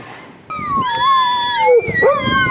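A dog whimpers close by in a long, high, wavering whine that rises and falls, with a few short breathy yelps at the end.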